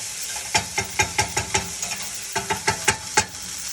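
Onion and garlic sizzle in a pan on lowered heat, with a steady frying hiss broken by a run of sharp, regular scraping strokes as the mixture is stirred, close and alone.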